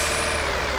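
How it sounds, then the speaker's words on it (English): A truck's air brake vents in Euro Truck Simulator 2, a loud continuous hiss of discharging air over the low hum of a 1020HP Kenworth engine, steady for under a second. "that, air discharge thing is kind of driving me nuts a little bit"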